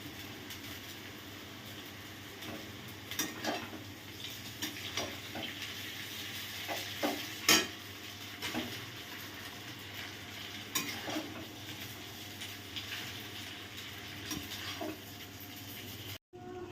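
Boiled chow mein noodles being stir-fried with vegetables and peas in a pan, a soft steady sizzle under repeated clanks and scrapes of the spatula against the pan, with a faint low hum throughout.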